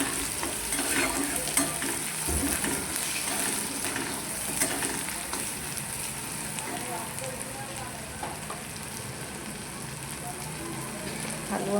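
Spices, coriander powder and garam masala, sizzle in hot oil for moth dal curry, a constant crackling hiss with intermittent spoon stirring scrapes, close and steady, with faint speech now and then.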